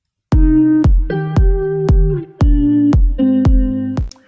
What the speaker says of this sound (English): So there's a lot of low end to that kick, a lot of punch